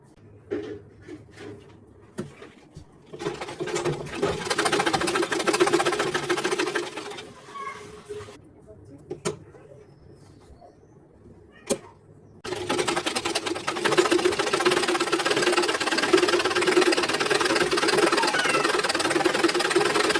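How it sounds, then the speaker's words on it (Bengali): A sewing machine stitches folded blouse fabric along an inner hem in loud sustained runs, first briefly pausing and stopping, then running steadily and continuously through the second half, with no voices. "এখন এটা জাস্ট ভাঁজ করে ভেতরের দিকে সেলাই করে দেব।"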